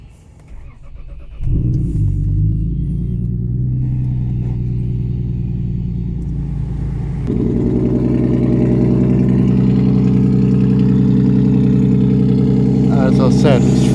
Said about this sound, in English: I'm going to start it up, but I'm not going to rev it or anything, because it is fucking obnoxiously loud.